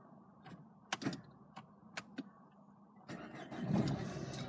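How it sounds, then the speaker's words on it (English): A 2010 Renault Megane Dynamique dCi diesel car with push-button start: a few sharp clicks and knocks, then the engine cranks and catches into a steady, rough idle that fills the last second and a half. "Looking at the display whilst we start the vehicle."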